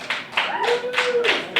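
A few audience members clapping in a small comedy venue, a handful of sharp, separate claps in a loose rhythm with a voice sounding between them.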